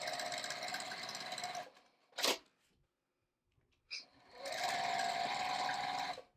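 A sewing machine stitching quilt fabric runs in a steady, loud whirring burst, stops for a couple of seconds while a few handling clicks are heard, then whirs again at the same close, even pace.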